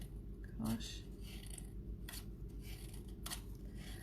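Scissors snipping through craft grass: about three quick, crisp cuts spaced a second or so apart, fairly faint and close against a low background hum.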